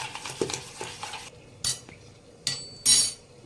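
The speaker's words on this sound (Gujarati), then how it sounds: "અને 1 મિનિટ સુધી આ રીતના આપણે ફેટીશું." A spoon beating semolina dhokla batter with a little added water in a bowl, giving a run of quick scraping clinks and taps, fairly close, followed by a few sharper louder knocks against the bowl.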